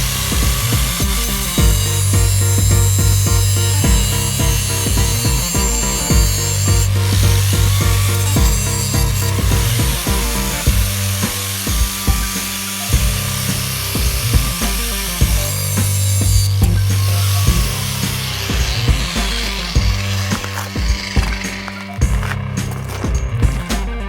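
A saw cuts through exposed rebar in broken concrete during deck build preparation, a loud continuous grinding drone close by with repeated strokes and brief pauses over about twenty seconds, no talking.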